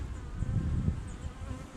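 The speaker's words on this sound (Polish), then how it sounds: "mnie tu pszczoła atakuje" Honeybees buzz steadily and close by at an apiary, a low droning hum with a few louder passes, no talking.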